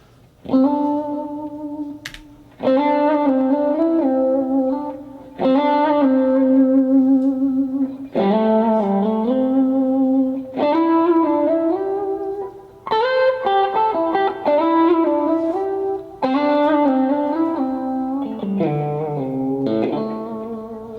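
Distorted electric guitar plays a series of sustained pentatonic phrases with gliding pitch slides between positions, loud and steady with short gaps between runs.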